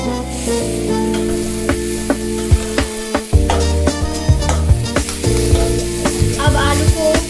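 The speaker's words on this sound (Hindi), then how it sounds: "अब आलू को मसाला के साथ फ्राई करेंगे" Potatoes fry with masala in a pan for aloo paratha filling, a loud sizzle broken by frequent sharp spatula scrapes and clanks in an irregular rhythm.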